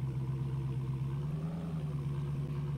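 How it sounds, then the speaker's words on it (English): A modded car in the Farming Simulator video game idles quietly with a steady, low engine drone and a faint clatter, holding a constant pitch throughout with no talk over it. "The modder did a really good job on the sounds on this car."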